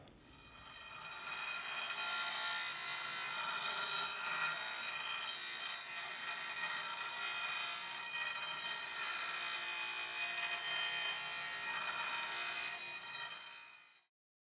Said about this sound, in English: After welding the seams of the point, I then grind the point smooth.